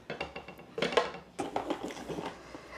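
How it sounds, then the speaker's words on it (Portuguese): A pan of sweet dessert is scraped out in an irregular run of close metallic scrapes and knocks, with no talking. "E eu vou raspar essa panela."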